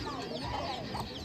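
A hen clucks at an animal farm in a short, continuous burst over steady outdoor background noise, with no talking.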